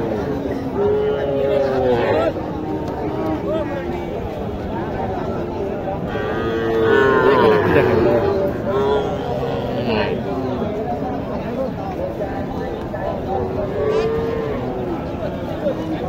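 Cattle, including small bulls and calves, moo now and then amid a noisy livestock market in Naogaon, Bangladesh, with people talking and a general hubbub throughout; one loud moo stands out midway.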